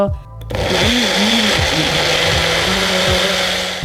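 A kitchen blender whirs loudly as it mixes a honey popsicle mixture. The motor spins up after a brief pause, then runs with a wavering, gurgling drone that rises and falls as the mixture churns.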